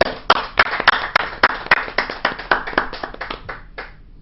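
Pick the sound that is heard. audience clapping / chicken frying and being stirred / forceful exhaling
audience clapping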